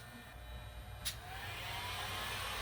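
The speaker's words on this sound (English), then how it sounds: "What we're going to use to shrink this is a heat gun. All this does is blow hot air." A heat gun gives a steady, broad rushing hiss of blowing hot air that slowly grows a little louder, with one brief click near the start.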